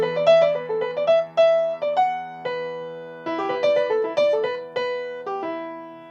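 A modal anthem melody, centred on E, plays as clear, ringing notes in two phrases, moving by steps and leaps with a short pause between them and no voices.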